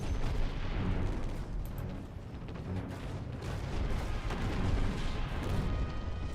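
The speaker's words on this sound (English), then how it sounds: "Firing mortar!" Mortar fire from a ship in Treasure Planet: Battle at Procyon, a dense, continuous barrage of booming artillery blasts and crackling gunfire, loud and close with no pauses across the whole stretch.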